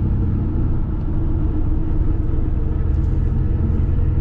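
Car engine cruising at light, steady throttle (15–20%) just after a transmission install, a continuous loud low-pitched drone with dense rumble and no break across the whole stretch.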